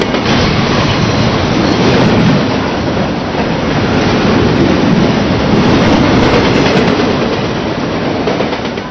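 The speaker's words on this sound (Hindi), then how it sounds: "मुंबईकरों की जिंदगी का अहम हिस्सा है ये लोकल ट्रेन।" A Mumbai local commuter train runs with a loud, steady rumble and rattle of rail cars, continuous and close throughout with no speech.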